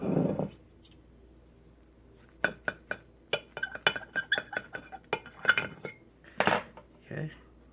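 A knife and fork working through a stuffed chicken breast on a plate, giving a string of light clinks and scrapes of metal on dish, close but fairly soft.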